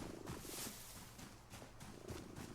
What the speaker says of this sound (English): You can hear the cat purring.